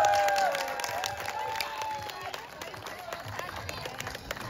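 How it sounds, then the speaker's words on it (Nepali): An audience applauds to welcome a performer on stage at a Nepali community Dashain program in Austin. Scattered clapping and crowd noise fade gradually, with a voice carrying over the top. "जोरदार तालीका साथ स्वागत गर्नुहोस्"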